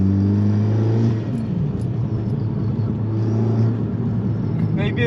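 An Audi S3 8V engine with a crackle-tuned exhaust holds a loud, steady, rumbling drone with a slight rise and fall, and a few quick pops near the end.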